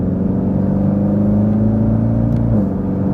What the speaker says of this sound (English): I love that sound of the Acura exhaust